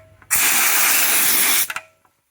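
A Harbor Freight MADDOX Bazooka tire bead seater tank fills with compressed air: a loud, steady hiss for over a second, then a couple of short sputtering bursts as the flow cuts off.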